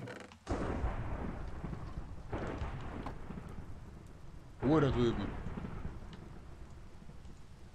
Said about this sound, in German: Ich will was Böses beschwören und schon kommt ein starkes Gewitter.